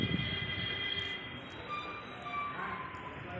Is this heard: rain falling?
no